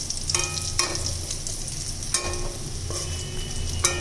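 Drumstick flower fritters frying in oil in a pan, a steady close sizzle punctuated by a few sharp ringing clinks of a utensil against the pan, no voices.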